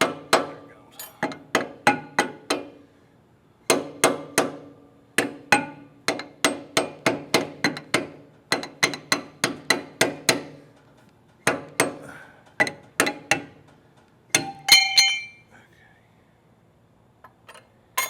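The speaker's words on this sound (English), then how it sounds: "I can hit with this plate and get it to come loose." A metal plate is banged against a stuck part on a Dyna wood processor, producing bursts of sharp metallic clanks in quick rhythmic strings, separated by short pauses, close and loud with no talking.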